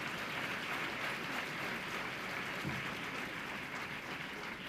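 Dense, steady applause from a large audience at a festival closing ceremony at Dev Sanskriti Vishwavidyalaya, Haridwar, sustained and even throughout with no voices over it.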